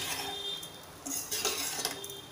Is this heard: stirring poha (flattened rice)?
yes